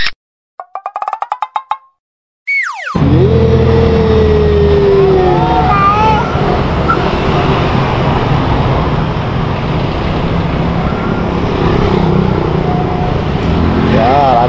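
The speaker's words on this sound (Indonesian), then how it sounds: "Ya, ada truk oleng lagi teman-teman." A swaying truck drives past close on the road, a loud, steady roar of engine and tyres that fills the scene after a brief, quieter melodic chime at the start.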